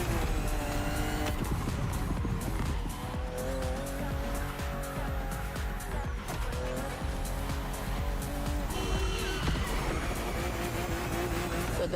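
BMW M car in The Crew Motorfest, a racing video game, roars at high revs with tire squeal and skids, a dense, continuous engine drone throughout with gear shifts, loud and close, no speech.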